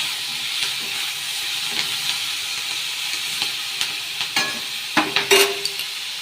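Chili chicken frying in a pan with a little turmeric stirred in: a steady close hiss of frying with soft stirring scrapes and a few sharper clinks and spatters near the end, no talk.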